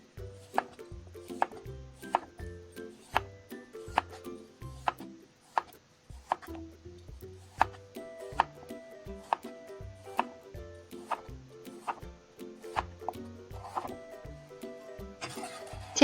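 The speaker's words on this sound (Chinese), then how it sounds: "我准备了2颗大土豆，清洗干净去皮，然后切成薄一些的滚刀块" A knife cuts two large peeled potatoes into thin chunks on a cutting board, sharp regular thunks landing about once or twice a second, close and clear over quiet background music.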